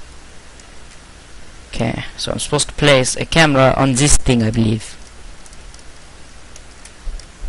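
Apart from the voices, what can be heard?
rain falling outside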